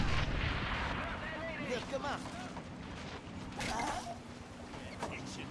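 Grenade blasts and gunfire in Men of War: Assault Squad, with an M3 AT gun under attack during a 2v2 match, booming and crackling over continuous talk from players.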